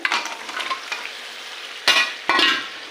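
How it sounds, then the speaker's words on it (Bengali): Mutton frying in a spice paste for mutton biryani, loud oily sizzling up close, with two sharp bursts as the meat is stirred and turned. "ভালো করে মাংসটাকে কষে নিই"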